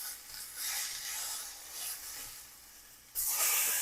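Chicken pieces sizzle in a skillet after being turned, a steady close frying hiss that swells suddenly louder near the end.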